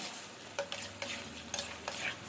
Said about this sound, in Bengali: আবারও কিছুক্ষণ সমস্ত কিছু ভালো মতো নেড়ে চেড়ে মিশিয়ে নিয়ে